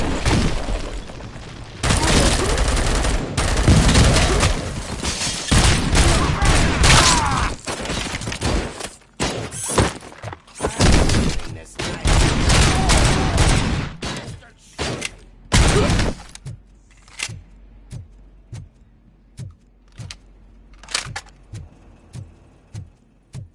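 Gunfire rattles in the RoboCop Rogue City game on PS5, with dense loud bursts for the first half that break into sporadic shots and thuds as the action thins out, voices shouting under it.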